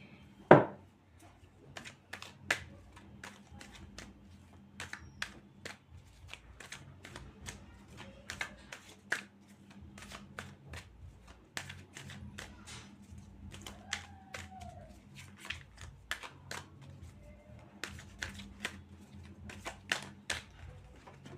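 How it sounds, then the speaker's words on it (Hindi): Tarot cards shuffled by hand during a reading, faint rapid riffling taps and soft slaps in irregular bursts, close and quiet, with a louder knock near the start. "Last shuffle."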